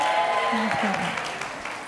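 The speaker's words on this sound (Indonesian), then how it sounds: "Tepuk tangan yang meriah." An audience at an indoor gathering gives a brief burst of clapping, a soft wash of many hands that fades within two seconds.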